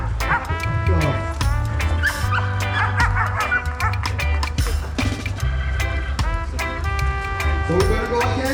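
A five-month-old puppy riding along on a bike at a dog meetup in Jamaica barks and yips repeatedly, loud and close, amid crowd noise and people talking.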